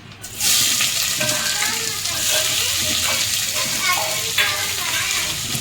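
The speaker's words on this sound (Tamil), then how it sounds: "எண்ணெய் ஊற்றி பட்டை எல்லாம் போட்டு இப்போ வெங்காயம் போட்டுக்கலாம்" Onions frying in oil with cinnamon, cloves, cardamom and bay leaf for egg biryani, a steady close sizzle with stirring scrapes running throughout, with no talk over it.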